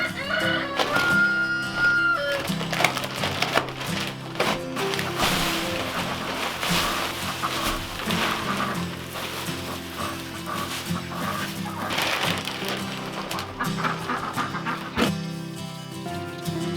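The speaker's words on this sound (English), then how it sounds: "I hope you can hear Franklin over there. He's been crowing at us." A rooster named Franklin crowing somewhere off to the side, mixed in with nearby thumps, rustling and clattering from work close by.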